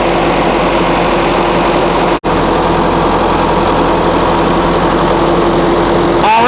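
International Harvester UD9 gen set engine running on gasoline, a loud, steady heavy idle with even vibration, briefly cut off for a split second before continuing.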